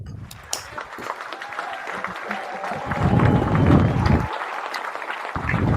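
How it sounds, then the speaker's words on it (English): A round of applause for the Oklahoma City Thunder: scattered clapping and crowd noise that swells in the middle and eases toward the end, mixed with voices. "let's give OKC a round of applause"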